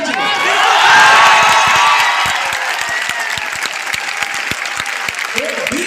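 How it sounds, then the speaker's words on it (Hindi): A seminar audience at a maths meet-up in Patna rises and applauds, loud dense clapping swelling with some cheering, then a steadier stream of individual claps continuing to the end. "क्या हम उसके लिए खड़े होकर एक बार ताली नहीं बजानी चाहिए?"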